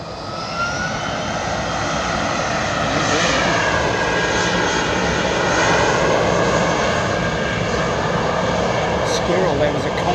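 A jet airliner takes off at London Heathrow, a loud, steady engine roar with gliding, rising tones that holds for the full ten seconds, with faint voices in the background.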